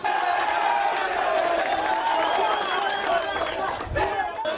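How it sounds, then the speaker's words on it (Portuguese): Football supporters at a Brazilian Série D group-stage home match, Mixto against Sampaio Corrêa in 2012, protest as the team heads to the locker room: a steady, loud stadium crowd roar with overlapping shouts and whistles, sustained throughout. "A torcida não gostou nada do que viu e na saída para o vestiário, cobrou do time."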